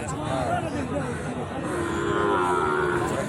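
Cattle low and moo steadily at a busy rural cattle market in Raniganj, with a crowd's babble and chatter running underneath throughout.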